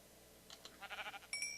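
Sheep bleating in Minecraft, a few short wavering bleats in quick succession, fairly faint, followed by a brief bright chime-like tone, with no talking over it.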